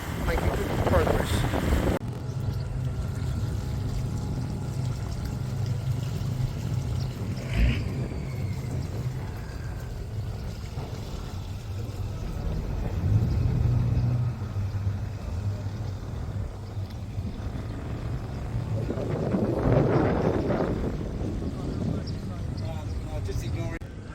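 A sailboat runs under jib with one engine going near Rhodes, giving a constant low engine drone and rushing wind and water noise throughout, with someone talking over it.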